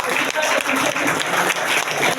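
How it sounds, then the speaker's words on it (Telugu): A workshop audience claps loudly and steadily, dense applause from a large group filling the room, with a few voices mixed in under it. "ఈ వర్క్ షాప్ నచ్చింది అంటే గట్టిగా చప్పట్లు కొడదాం మనం"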